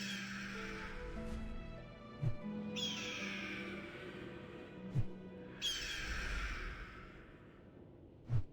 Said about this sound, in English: these actually sound more like eagles than I was expecting